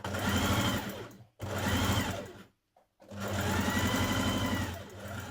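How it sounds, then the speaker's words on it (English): A sewing machine stitches back pocket pieces for a tie-front dress in three quick bursts of rapid, close mechanical whirring, separated by short pauses. "Stitch in your back pockets in the same way"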